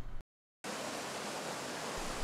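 Wolf Creek, a mountain stream on a hiking trail, rushes steadily with a broad, hissing flow of water, close and continuous after a brief cut to silence.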